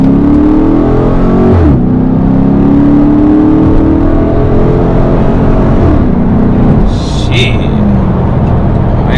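A Dodge R/T with a Hemi engine accelerates hard on a highway, loud and close, its engine note climbing steadily and dropping at two gear shifts. A man briefly exclaims over the engine.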